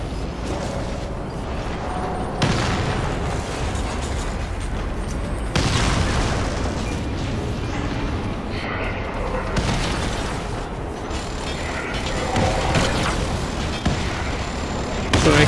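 Gunfire from the shooter game Warface on the Volcano survival map: rapid bursts of shots and heavy booms arrive in repeated waves, loud and dense, with brief lulls between volleys.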